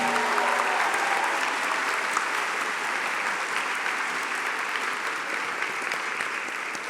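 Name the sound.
applause for staff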